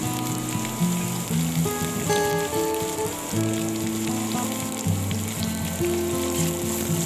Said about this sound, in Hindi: अब इसमें हम ऐड कर देंगे हमारे बारीक कटे हुए प्याज।